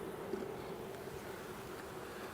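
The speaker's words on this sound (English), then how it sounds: "Let's shake these bees back into the box." Honeybees swarm around a hive frame in a spring apiary, making a faint, even buzz that holds steady with a slight hum and a bit of wind, and no talking.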